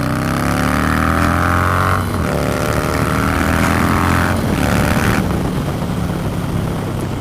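A Harley-Davidson Low Rider S with its 117 cubic inch V-twin passes close by, a loud, steady engine drone whose pitch bends downward as it goes, with no speech.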